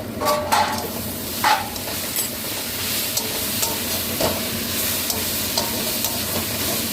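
Food frying and being stirred in a pan with sugar added, a steady broad sizzle with occasional scraping strokes, moderately loud and continuous, no voices.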